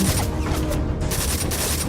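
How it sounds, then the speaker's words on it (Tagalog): Rapid gunfire from an animated battle between bamboo guns and pellet guns, a dense, continuous burst of crackling shots that fills the whole moment, loud and close with no talk over it. "Malalakas ang mga baril nila, Boss B."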